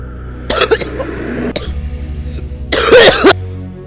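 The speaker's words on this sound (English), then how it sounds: "Okay, enough coughing." Several loud, close coughs in short harsh bursts, with throat-clearing sounds between them over a low background hum.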